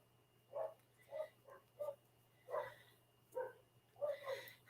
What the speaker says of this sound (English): They're out there barking like mad.